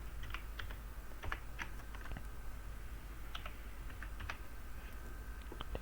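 Steady run of light key clicks from someone typing on a computer keyboard, close and fairly quiet over a low background hum, with irregular bursts and short pauses throughout.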